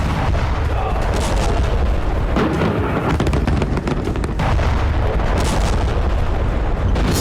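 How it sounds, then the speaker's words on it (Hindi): Heavy bombardment in Syria: dense, continuous blasts and booms crowd together in a loud, chaotic barrage with repeated sharp impacts, and no clear pause anywhere in it. "सीरिया पर नॉन स्टॉप बमबारी जारी है।"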